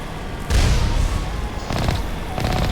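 Gunfire in the sci-fi shooter Mass Effect Legendary Edition, a deep boom followed by bursts of rapid shots at fairly close range over a steady rumbling game background.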